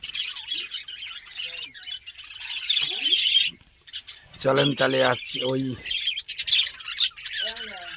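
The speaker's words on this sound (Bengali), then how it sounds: "আর এখানে আমার লাভবার্ড আছে, কিছু নূতন নিয়েছি লাভবার্ডগুলি।" A cage of lovebirds gives loud, close, repeated squawks and quick chirps, with someone talking briefly in between the calls.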